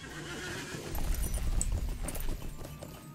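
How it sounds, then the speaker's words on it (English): Horse hooves clip-clop steadily on a road in the Lord of the Rings Online video game, a dense rhythmic patter amid battle ambience, with no one talking. "I might want to get off my horse"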